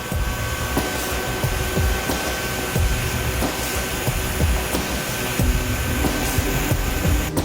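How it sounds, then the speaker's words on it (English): De-icing machines spray an Airbus A380 with a steady loud hiss and roar of spray and engines, continuous throughout, with occasional low thumps and no talk. "The powerful de-icing machines move in, while Emanuele and his team keep an anxious"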